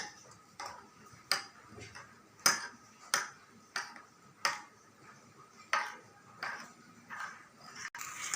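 A spoon stirs chopped chili and butterfly pea flowers in a bowl for a colourful omelette, making a steady run of sharp clinks against the bowl about twice a second, fairly quiet, with no talking.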